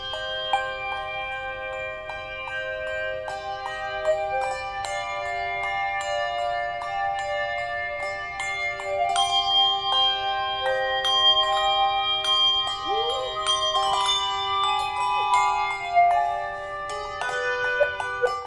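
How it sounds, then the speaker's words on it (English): Bells are rung in turn by a group of ringers, clear ringing tones struck one after another in a steady passing sequence, each note sustaining and overlapping the next, with no talking. "I really like figuring out how to pass bells between different people"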